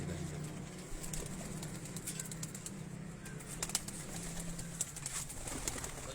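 Breeder pigeons cooing in a loft, with soft low cooing and occasional wing flutters and clicks over a faint steady background hum.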